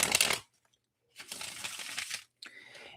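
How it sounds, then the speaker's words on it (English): Tarot cards being shuffled by hand in short bursts of papery riffling, separated by brief silences. "So we will shuffle these cards,"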